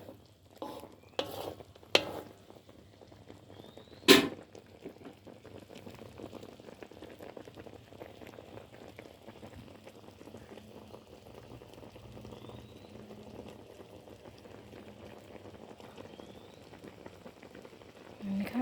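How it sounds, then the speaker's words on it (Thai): Bananas simmering in sugar syrup over low heat, a faint steady bubbling and gentle sizzle with a few sharp clinks of a utensil near the start. "เคี่ยวจนน้ำตาลคลุกคลิกอยู่กับกล้วยเลยนะคะ"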